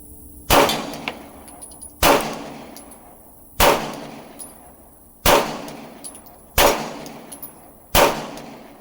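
Six sharp pistol reports from a Glock 19X, fired left-handed at irregular intervals of about one to two seconds, each a loud crack with a brief ringing decay, with no talk.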